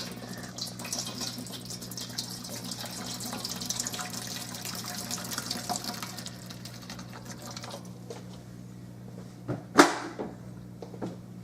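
A 12-ounce beer poured into a cooking pot for boiling blue crabs, a steady close splashing stream that fades out, followed by a short clank.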